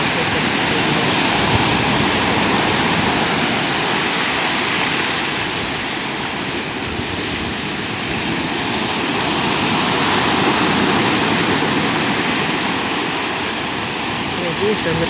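Waves roll where a river flows into the sea, a steady loud wash of water that rises and falls gently in slow surges, close to the microphone with some wind.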